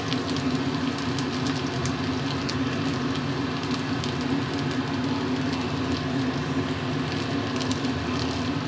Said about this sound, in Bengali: তেল গরম হয়ে গেছে, ওর মধ্যে দিয়ে দেবো রসুন কুচি